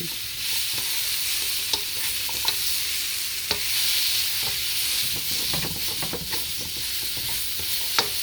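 Sweet potatoes sautéing in oil in a hot wok, a steady bright sizzle and hiss punctuated by light clicks and scrapes of stirring, close and continuous without speech.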